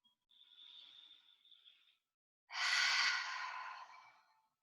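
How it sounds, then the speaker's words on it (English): A slow, deep breath in during a shoulder-focused yoga flow, then after a short pause a louder, breathy exhale like a sigh, close and alone. "Beginning to deepen your breath."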